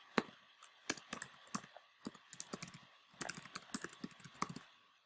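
Someone types a web address on a computer keyboard: quick, close, uneven bursts of crisp key clicks with short pauses between runs, and no talking.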